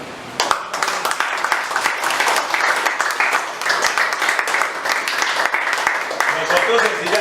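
Congregation applauding during a church service sermon, a loud dense burst of clapping that rises after a short lead-in and holds steady, with voices mixed in among the crowd.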